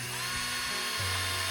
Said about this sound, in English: when you drill that 3-inch deck screw through them